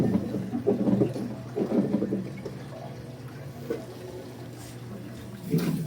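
Water fills a Daewoo Winia washing machine drum for a cold wash, a steady rushing flow with a low hum and a few faint knocks, close by.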